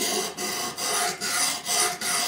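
Knife blade drawn repeatedly across a Ganzo Touch Pro diamond sharpener, a steady rasping scrape in about five even strokes with brief pauses between, close and fairly loud, no talk.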